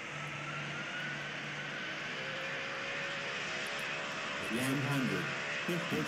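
Steady airliner engine roar in a Roblox flight simulator game during a hard landing, a continuous loud drone with a rise near the end while a person talks over it.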